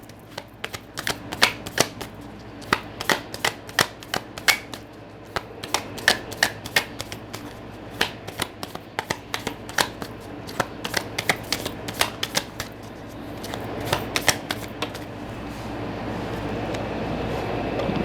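Tarot cards being shuffled by hand, a long run of quick crisp riffling flutters and taps, close and fairly quiet, with no talking.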